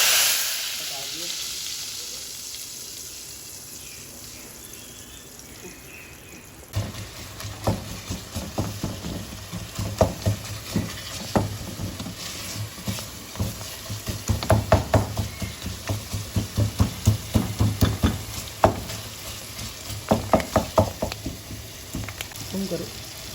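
Spices for an Indian tadka sizzling in hot oil, a steady frying hiss that swells into crackling pops and spits after a quieter opening stretch, close up with no talking.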